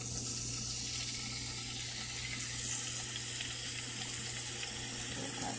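Food frying in oil in a pan while cooking breakfast, a steady soft sizzle with light crackle that holds evenly throughout, fairly quiet and with no talking over it.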